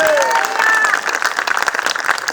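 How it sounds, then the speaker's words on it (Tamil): A church congregation at a festival service claps hands together, a loud, dense burst of applause with a sustained vocal tone at the start and crowd voices underneath. "என்ன கைத்தட்டு தட்டுறீங்க?"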